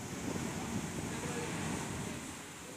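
Ocean waves surge into the La Bufadora blowhole near Ensenada, a broad continuous roar and wash mixed with wind buffeting the microphone.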